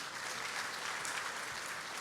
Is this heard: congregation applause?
yes